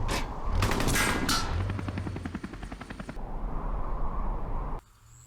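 Gunfire rattles at a tank in a Henry Stickmin video game, a rapid burst of shots over a loud droning engine-like roar, sustained for several seconds before cutting out abruptly.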